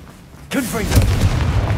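A Confringo blasting spell explodes in Hogwarts Legacy, a sudden loud boom with a crackling burst and rumbling low tail, preceded by a short voiced sound.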